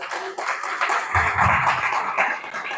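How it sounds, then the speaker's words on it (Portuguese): A church congregation claps together, a dense wash of handclaps filling the room at moderate loudness with a brief low thump partway through and little talk over it. "Aplauda Jesus bem forte, que Ele merece."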